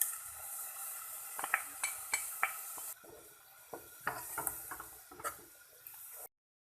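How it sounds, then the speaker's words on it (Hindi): Tomato puree, spices and yogurt gravy fry in a pan, a soft sizzle beneath sharp clinks and scrapes of a spoon stirring against the pan, close and quiet, with no talk. "दही डाल के इसको फ्राई कर लिया है"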